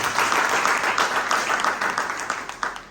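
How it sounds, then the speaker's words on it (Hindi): Audience applause at a women's honour ceremony in Amarwara, loud continuous clapping from a crowd that gradually thins toward the end. "उनके लिए जोरदार तालियां होनी चाहिए।"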